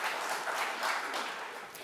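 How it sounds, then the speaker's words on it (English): A crowd at a social work graduation ceremony claps steadily in a brief burst of applause, dense and somewhat distant, without any talking. "One more time, lots of applause."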